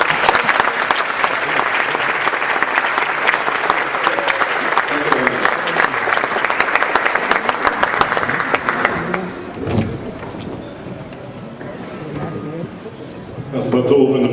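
Audience applause for Julio Ceren at the Casa Maiz festival in Toronto, Canada: a sustained, loud round of clapping for about nine seconds that fades out, followed by quiet room noise and a few stray sounds.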